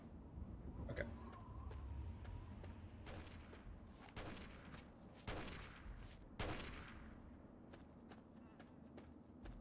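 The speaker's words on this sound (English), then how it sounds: "A lot of firing up here." Gunfire in the game Fallout 3, a scattered series of sharp shots at a moderate distance, heavier bursts around the middle, over a low rumbling ambience with footsteps and a few voice-like sounds.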